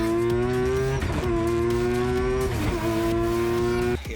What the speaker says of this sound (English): The car sounds like he's ringing it out way harder than us.